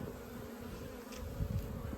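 Honey bees buzz around their hives in October while being moved to a holding yard. A continuous, fairly faint, droning hum fills the short moment.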